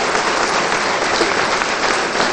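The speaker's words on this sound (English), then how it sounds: "I think they deserve a big round of applause." Steady, dense applause from an audience at a chamber of commerce awards evening honoring Carol and John, loud and unbroken throughout with no voices over it.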